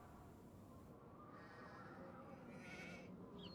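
In the Nancy Drew: The Haunting of Castle Malloy game, a sheep bleats briefly over a dense, noisy ambient background, faint and somewhat distant.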